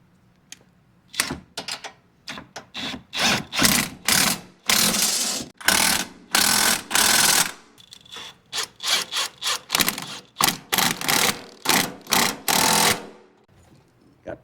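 Loud bursts of a power impact tool tightening the shock bolts on a Yamaha Wolverine X2 1000 during a rear axle replacement, many short rattling pulses, some longer runs, separated by quiet gaps, close to the listener.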